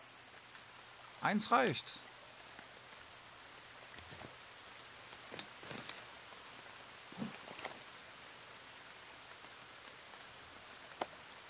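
Rain falling in the survival video game The Forest, a faint steady patter under a man's speech and a few scattered clicks and bumps.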